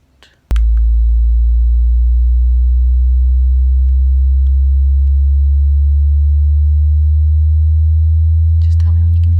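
A steady low sine tone for a hearing test starts abruptly after a brief soft sound and holds loud and unwavering for several seconds, with faint rustling near the end.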